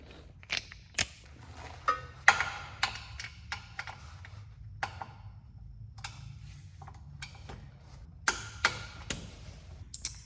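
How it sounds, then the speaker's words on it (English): A torque wrench tightening the oil drain plug on a Mercedes-Benz E320 CDI during an oil change gives quiet, irregular ratcheting clicks and sharp metallic ticks, scattered close-up over a soft background hum. "Handy dandy torque wrench."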